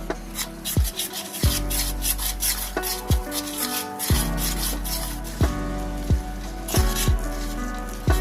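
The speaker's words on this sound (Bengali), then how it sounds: "এই সবগুলো ভালো করে মেখে নেব।" Grass pea lentil paste being kneaded by hand with turmeric and chili powder, giving steady wet squelching and rubbing with repeated soft slaps and pats, close and continuous, with no talking.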